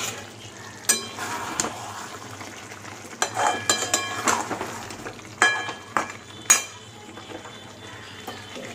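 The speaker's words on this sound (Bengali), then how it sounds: "মাংসটা কষানো মোটামুটি হয়ে গেছে কষা হ্যাঁ তেল ছেড়ে গেছে" Meat for kala bhuna is stir-fried in a pan in its released oil. A spatula scrapes and clanks in irregular strokes against the pan over a soft, steady sizzle, close up and without talk.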